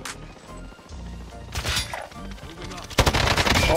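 Gunshots in a competitive online shooter match, with several sharp reports and clattering hits, ending in a rapid loud burst of fire near the close, mixed with game effects.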